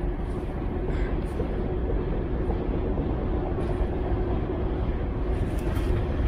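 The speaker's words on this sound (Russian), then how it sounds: "Тут вон поезд рядом едет." A continuous low rumble and rattle of a train rolls by near a Siberian forest in September, steady and loud throughout, with a voice speaking over it.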